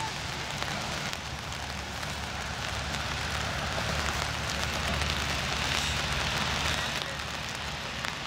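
Rain falls steadily during an under-18 rugby sevens match in Zagreb, making a constant dense hiss that is loud and unbroken for the whole stretch.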